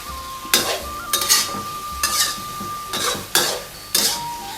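Egg tofu and sunflower sprouts stir-fried in a pan: a regular rhythm of about six loud spatula scrapes and clanks against the pan over a continuous sizzle, close up and without talking.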